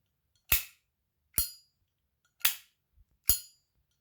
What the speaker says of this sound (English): let's give you some Zippo sound